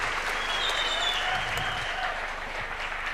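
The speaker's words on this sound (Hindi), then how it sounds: "मैं चाहूंगा एक बार आप अपने लिए जरूर तालियां बजाएं, अपने लिए।" Steady audience applause from a seated crowd at a direct-selling seminar, continuous and fairly close, holding an even level throughout with no voices over it.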